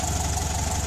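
A car engine idles through an EMPI GT sport exhaust, giving a steady, loud, low rumble with a continuous throb and no pauses, heard alone and close.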